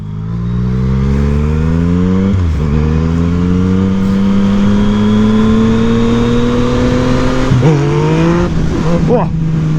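Yamaha MT-09 motorcycle engine revving hard as the throttle is yanked for a wheelie, loud and close, pitch climbing through the gears with sharp jumps and a final surge near the end.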